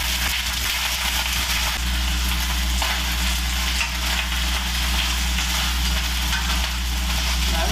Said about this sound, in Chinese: 煎煎一煎佢啦